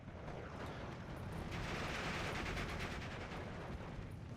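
MG42 machine gun fire in the World War II strategy game Steel Division 2 chatters in faint, rapid repeated bursts, mixed with distant explosions and battle din, with no talk.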